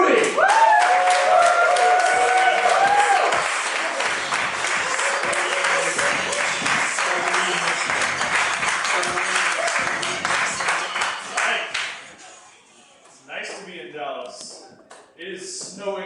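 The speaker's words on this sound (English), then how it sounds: "Everybody start clapping for the very funny and one of my very good friends" A comedy festival crowd in Dallas applauds and cheers loudly as a comedian is brought on stage, the clapping sustained for several seconds before dying away, with people talking once it fades.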